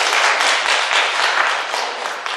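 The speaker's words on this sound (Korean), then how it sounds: "우리 목사님께 박수 좀 한번 쳐드리죠." A church congregation claps in warm applause, a dense, steady burst of many hands that fills the room briefly and stays fairly even throughout.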